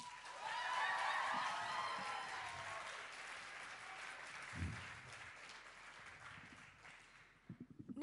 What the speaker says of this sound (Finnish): Antakahan vielä kerran aplodit bändille aivan hurjasta menosta.